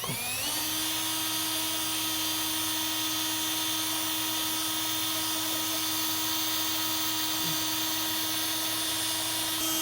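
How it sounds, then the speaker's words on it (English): A power drill with a 1/2-inch bit whines at a constant high pitch, drilling a hole while installing a base plate on a 2021 Jeep Wrangler, running continuously and loudly with no pauses or voices. "take your 1/2-inch drill bit, get this as perpendicular as possible, and we can drill this out."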